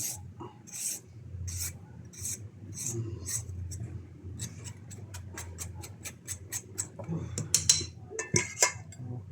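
Repeated rasping scrapes of radish against a grater, close by, in quick uneven strokes, with a few clinks of metal and some soft talk.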